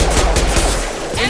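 Gunfire from the Mass Effect 2 video game: a rapid run of sharp, loud shots with low booming impacts, packed densely across a short burst of combat.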